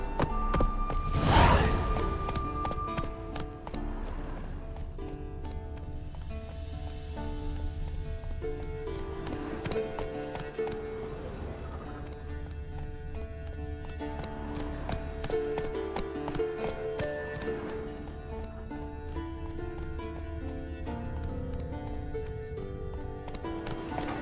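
Geralt's horse Roach from The Witcher 3 gallops in steady clip-clop hoofbeats, moderately loud, layered under continuous orchestral game music with a brief loud swell near the start.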